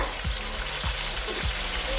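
Fish pieces frying in hot oil in a large pan, a steady close sizzle with a few soft scraping sounds at regular intervals and no voices.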